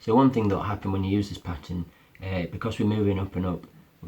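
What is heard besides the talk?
No distinct noise like a dog, phone or traffic.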